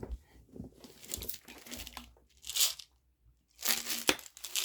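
A plastic water bottle is grabbed and handled, giving several bursts of crinkling and crackling at close range, separated by brief quiet gaps.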